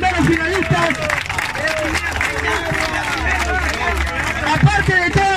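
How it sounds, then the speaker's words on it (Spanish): Crowd at a freestyle rap battle final applauds and cheers amid busy chatter, with a voice talking over the clapping and a low bass rumble underneath. "Lut, Gerva, un aplauso para ellos por ser los primeros finalistas."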